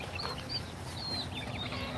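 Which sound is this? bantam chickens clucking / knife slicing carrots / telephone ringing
bantam chickens clucking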